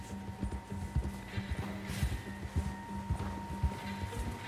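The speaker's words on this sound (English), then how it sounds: "Horsey, pick up the pace, please." Horse hooves clip-clop in a steady walking rhythm in the Western open-world game Red Dead Redemption 2, close and fairly loud, with a sustained musical or ambient drone underneath and no talking.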